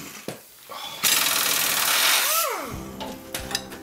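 Power tool removing a lower raft bolt on a Lotus Elan M100: a short click, then a loud whirring buzz for over a second that winds down with a falling pitch, followed by a few clanks.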